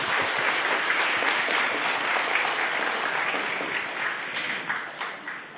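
Sustained audience applause fills a Korean military-service honors award ceremony after a live performance by an ensemble and a soprano, a dense, steady crowd clapping that slowly thins toward the end, with no speech over it.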